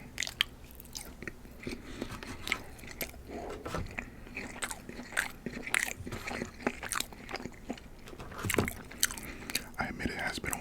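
Close, crisp biting and crunching on Dave's hot chicken nuggets, with wet chewing between bites and soft whispery breaths, recorded intimately in a steady run of irregular crunches.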